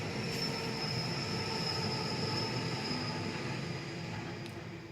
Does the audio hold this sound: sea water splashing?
no